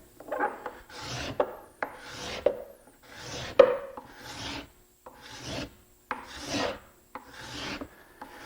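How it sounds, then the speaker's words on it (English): A dull cabinet card scraper dragged across a wood board in about eight slow, even rasping strokes, each a soft scratchy rub separated by short gaps, close and fairly quiet. "I'll dull down my scraper, taking the burrs off, and then I'll show you how a dull scraper would look when you're using it"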